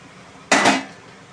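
Rice drops into a pan of fried capsicum and beetroot for egg fried rice, one short loud clattering rush of grains and metal lasting under half a second, then quiet.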